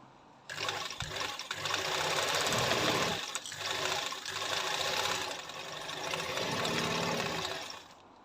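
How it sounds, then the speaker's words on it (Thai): A sewing machine runs a straight stitch in steady, fairly loud bursts of whirring motor and rapid needle clatter, pausing briefly midway before running on again, with no talk. "เริ่มต้นเราก็ปรับมาเย็บตรงก่อนนะครับ ปรับมาเย็บตรง"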